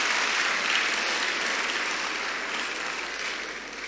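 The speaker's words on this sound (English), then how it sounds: "Let's give another round of applause." Sustained audience applause at an education address in Ghana, a dense, loud wash of many hands clapping that holds steady for several seconds and tapers slightly toward the end, with no speech.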